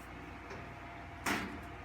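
A single sharp clack of a cabinet door shutting nearby stands out against quiet room tone, preceded by a faint soft knock.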